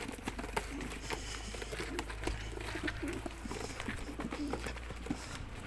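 Tumbler pigeons coo softly in low, throaty bursts amid a busy background of rustling and flapping, fairly faint and close together; a male is cooing.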